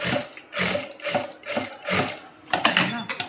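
A sewing machine stitches a churidar pant in about six short, evenly spaced bursts of rapid mechanical whirring, close and fairly loud, with brief pauses between runs.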